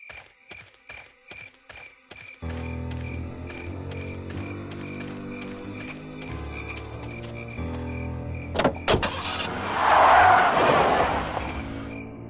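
A car drives in the Full Throttle video game, its engine droning under clicking sounds and music, with a brief skid-like burst near the end.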